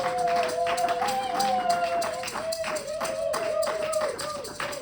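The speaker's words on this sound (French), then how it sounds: "Nous acclamons pour le Seigneur encore une fois de plus." Church congregation clapping and cheering in praise during a service, steady rhythmic applause from a crowd with a sustained voice or tone running over it, loud and close.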